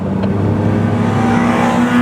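A BMW 5 Series engine heard from inside, droning loud and steady as it revs toward the top of third gear, the pitch edging upward over two seconds.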